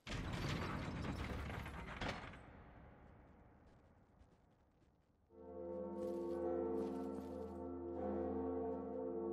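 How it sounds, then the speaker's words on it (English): A large bell is rung in the video game Dark Souls, starting with a harsh metallic clanking and ratcheting mechanism that fades out, then a loud sustained ringing tone with rich overtones that carries on steadily to the end. "It's time to ring the bell."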